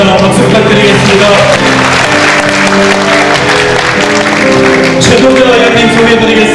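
Audience applause at a Bareunmirae Party convention electing party leader and supreme council members, steady and loud across the whole stretch, with music and voices mixed in underneath.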